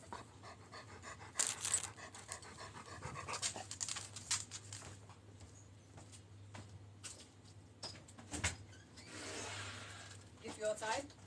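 A dog pants steadily close by, with rapid breathy rhythm running through the stretch alongside occasional handling noises and a few louder bumps, while a low hum sits underneath and brief human voice sounds come and go.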